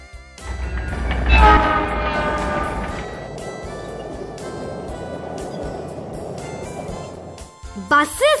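A passing train sounds its horn loudly, with sustained harmonic blasts over a heavy rolling rumble that settles into steady clatter; a brief sharper burst comes at the very end.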